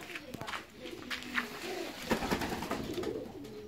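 Fancy ornamental pigeons coo in soft, repeated throaty calls close by, mixed with wing flutters and light rustling, while a person talks quietly in the background.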